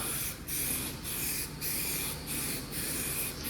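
Thick 2K primer sprayed from a spray gun over a fire-damaged hot rod body panel, a steady close hiss in repeated passes with brief dips between strokes, no voices.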